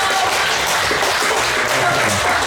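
Steady audience applause fills a hall as a guest is welcomed at a public event, dense and continuous clapping at even loudness with no break throughout.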